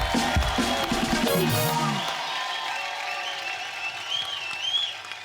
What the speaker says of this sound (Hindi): एक बार जोरदार तालियां कैटरीना कैफ के लिए।